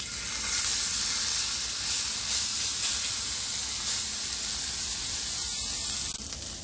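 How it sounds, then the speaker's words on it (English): Steak searing in a hot cast iron pan gives off a steady, loud, broadband sizzle and crackle that holds without a break, with no talking over it. "So now all we do is throw it in the pan and don't touch it."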